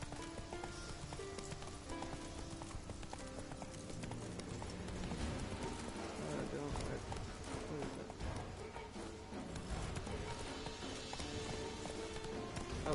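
Galloping hooves of a horse in The Witcher 3: Wild Hunt, a fast, steady clip-clop rhythm that carries on throughout, set against dense game music and ambience.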